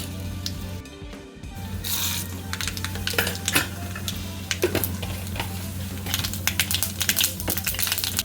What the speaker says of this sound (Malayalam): ചീനച്ചട്ടി ചൂടാകുമ്പോൾ എണ്ണയൊഴിച്ച് ഒരു വറ്റൽ മുളകും കടുകും ചേർത്ത് പൊട്ടിക്കുക